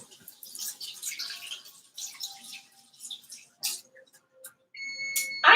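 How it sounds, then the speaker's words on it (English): An oven timer beeps while peanut butter cookies bake, a sharp electronic tone rising near the end after quieter kitchen clatter and a voice. "Ooh, that's the timer."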